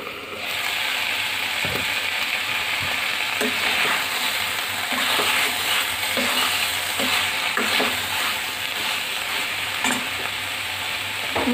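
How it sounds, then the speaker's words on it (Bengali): Cauliflower and potatoes being stirred and fried in a pan, with a steady close sizzle of oil and repeated scraping strokes of a spoon through the vegetables, loud and continuous with no talking. "আমি ফুলকপি আর আলুগুলো দিয়ে নেড়ে চেড়ে ঢাকনা দিয়ে ডেকে কষিয়ে নিই।"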